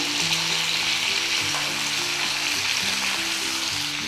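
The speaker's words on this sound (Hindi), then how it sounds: "और 1 से 2 मिनट तक इस प्याज को हमें इसी तरह से फ्राई करना है, ज़्यादा देर फ्राई नहीं करना है।" Onions fry with pickle masala in a pan, a steady loud sizzle running throughout with faint stirring underneath and no talking.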